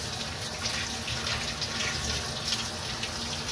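A Whirlpool WTW4850HW1 washing machine on its Delicate cycle fills with water during the initial fill: a steady, even rush and hiss of incoming water that continues unbroken from start to end with no talk.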